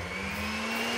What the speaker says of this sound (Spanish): Ahora voy a poner la batidora.